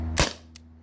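A single sharp, loud shot from a modified T4E TR50 gas-powered marker firing a homemade slug, followed by a much fainter short click about a third of a second later, with no voices.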